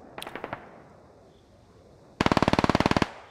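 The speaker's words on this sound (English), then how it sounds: "Lots of shots here, as looks like we're trading." Gunfire is traded in the military shooter game Squad: a short distant burst of shots, then a loud close rapid stream of about fifteen rounds that cuts off sharply.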